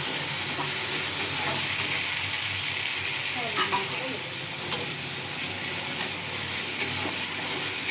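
Potatoes frying in a pan with softened tomato for rui macher jhol, a Bengali rohu fish curry with potato and pointed gourd, giving a steady, close sizzle with occasional stirring clatter throughout.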